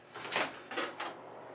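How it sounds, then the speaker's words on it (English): A door swings open with a couple of short scraping, creaking bursts close by, then settles into quiet room tone. "I'm opening the door."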